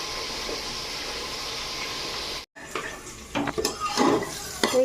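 Cut potatoes, beans and eggplant fry in hot oil with a steady sizzle, then a brief pause gives way to louder scraping and stirring clatter against the pan, with no talking.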